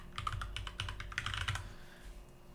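Keys clatter on a computer keyboard as code is typed, a close, quick run of clicks that fades out near the end.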